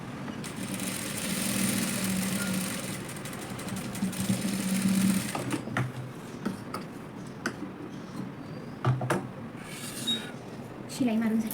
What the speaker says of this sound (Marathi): अर्ध्यापर्यंत ह्याच्यावर डबल शिलाई मारून घ्यायची